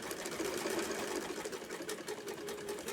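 A domestic sewing machine running continuously as fabric is turned to follow a curved seam, its fast, even stitching whir loud and close throughout with no pauses.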